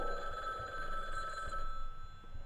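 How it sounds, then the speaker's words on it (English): Telephone ringing inside a horror video game, a faint, distant electronic bell ring repeating through the clip over a low rumbling ambience. "There's a phone ringing."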